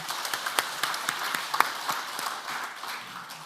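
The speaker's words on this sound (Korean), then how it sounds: "우리에게 은혜 말씀을 전해주신 목사님께 감사의 박수 드리겠습니다." A congregation at a Korean church men's mission prayer meeting applauds its pastor, a steady wash of many hands clapping with sharper individual claps standing out throughout.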